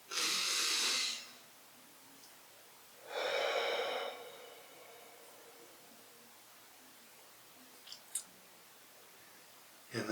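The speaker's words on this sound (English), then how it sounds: "let's take a deep breath" Two deep breaths come close to the mic during a tapping exercise: a long airy inhale, a pause, then a second long breath out, followed by quiet room tone and a couple of small clicks.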